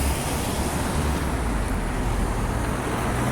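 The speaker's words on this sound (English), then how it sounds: "there's fucking traffic everywhere" Road traffic fills the air during the April holidays, a steady, dense roar of passing cars and heavier vehicles that holds constant with no pauses and no voices.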